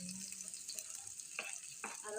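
Shallots sizzle and crackle steadily in a hot oiled pan while being stirred, with a few louder scraping bursts from the spatula.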